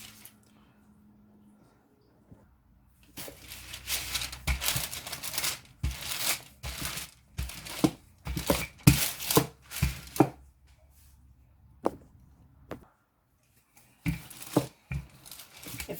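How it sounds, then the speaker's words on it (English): Pie dough for a basic 9-inch crust is rolled out between two sheets of parchment paper, making close, rhythmic bursts of crinkling and pressing separated by short quiet gaps. "The best way to roll your dough out is in between 2 parchment papers"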